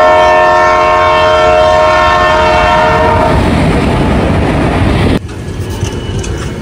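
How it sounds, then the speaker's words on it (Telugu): A passenger train on a journey toward Prayagraj roars along the rails, with sustained horn-like tones at first, then a loud, steady rumbling clatter that shifts abruptly near the end, with no voices. "బట్ ఇప్పుడైతే మనం ఈ ట్రైన్ జర్నీ అయితే చూసేయండి."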